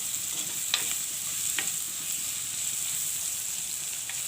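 Dried red chillies join green chillies frying in oil for Sri Lankan-style rava upma, a steady hissing sizzle with occasional light clicks of a stirring spoon. No speech.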